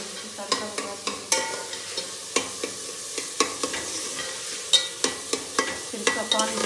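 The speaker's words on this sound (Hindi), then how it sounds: "अभी तड़का लगाती हूँ।" Spices sizzle in hot oil for a tadka tempering, with repeated sharp clinks and scrapes of a spoon stirring the pan in an uneven rhythm, close and moderately loud, no voices.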